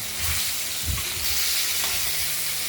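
Salted, turmeric-rubbed pieces of rohu fish frying in hot oil, a dense, constant hiss and crackle close by with a few soft bumps, no voices.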